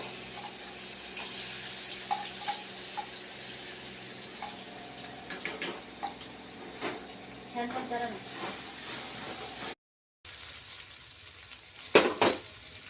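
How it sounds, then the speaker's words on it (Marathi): Washed greens go into hot oil with garlic and chillies in a home kitchen, producing a steady sizzle and crackle with occasional stirring clinks, a brief dropout, then a louder spitting burst near the end. "तेल तापलेलं आहे, आता मी टाकून घेते"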